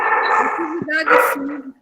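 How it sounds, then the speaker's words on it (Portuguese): A dog barks through someone's open microphone during an online nutrition class, giving a couple of short, sharp barks mixed in with a person talking. "O cachorro está latindo."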